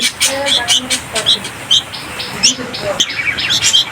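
A bulbul chick calls repeatedly with sharp, high chirps in quick bursts, close and loud, over a soft background hiss.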